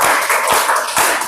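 A class clapping hands in rhythm, a few loud, close claps in quick succession in a classroom, with no talk over them.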